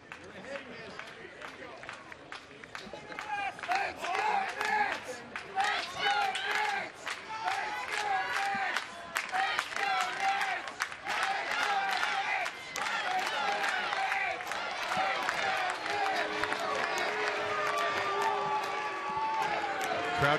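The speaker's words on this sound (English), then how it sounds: "Crowd getting a little testy here." Dense baseball stadium crowd noise at a night game with about 4,447 in attendance, a steady roar of voices and scattered shouting rising and holding loud throughout, with no clear pauses.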